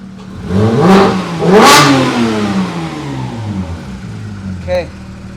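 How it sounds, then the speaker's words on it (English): A Porsche GT3 engine revs loudly twice, rising and falling close by, then settles to a lower idle with a brief blip near the end. "It's revving."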